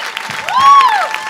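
Concert crowd applauding for a singer and his musicians at a private radio concert, a steady wash of clapping and cheering with a rising whistle-like tone in the middle and some voices mixed in.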